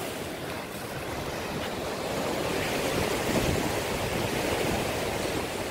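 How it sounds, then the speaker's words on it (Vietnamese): Strong sea waves pound the shore at Quất Lâm beach, a steady, loud roar of surf mixed with gusting wind buffeting the microphone, continuous with no voices. "Hôm nay sóng biển tại Quất Lâm là rất mạnh"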